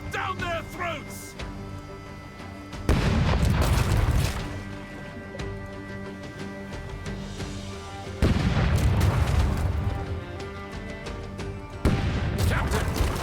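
Ship cannons fire in the pirate naval game Rogue Waters, with three heavy booming volleys spaced several seconds apart, each followed by a rumbling decay, under game effects and background music.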